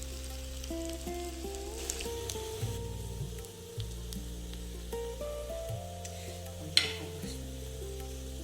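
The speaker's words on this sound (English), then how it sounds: "Now, add white till in the pan." White sesame seeds sizzle in a hot pan as bitter gourd (karela) sabzi cooks with onion, a steady soft crackle with low humming in the background and one sharper spit near the end; no talking.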